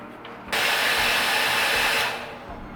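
A hair dryer blowing heat onto a doll's hard vinyl feet switches on abruptly and roars with a loud, close, steady airflow rush, then fades back as it is pulled away or switched down.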